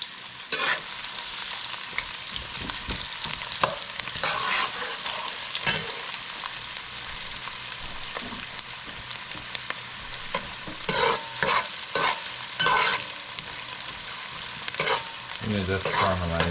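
Chopped onion sautés in a pan for a pumpkin curry: a steady, close sizzle runs throughout, broken by frequent scraping stir strokes, with no talking.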